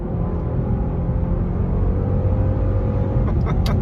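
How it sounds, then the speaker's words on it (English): A 2022 Genesis GV70 3.5T AWD with 375 horsepower under full throttle from a roll, its engine droning steadily and loudly from the cabin with a constant road rumble underneath and no talking. "So, rolling along right now, foot down."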